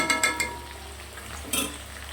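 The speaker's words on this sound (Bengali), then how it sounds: "এদিকে দেখো কড়াই তেল গরম করে আলুগুলো ভেজে নিচ্ছি।" Potato pieces frying in hot oil in a wok (kadai) for a Bengali dish, a soft continuous sizzle broken by a few sharp metallic spatula scrapes and taps near the start and again later.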